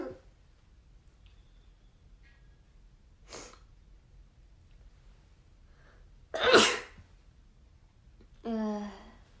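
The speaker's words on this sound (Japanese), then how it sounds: "待って、ハクション出る。" A single loud, close sneeze bursts out midway, preceded by a faint sniffing breath and followed by a short voiced groan, set against a quiet indoor background.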